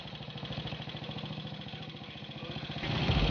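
Small engine idles steadily during a carburetor mixture-screw adjustment, a close, even low-pitched putter with regular firing pulses that deepens and grows louder near the end.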